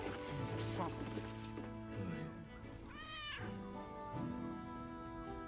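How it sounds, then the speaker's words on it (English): Kira the cat lets out several soft meows, one rising and falling cry standing out, all fairly faint and mixed in with quiet background sounds. "Кира котката."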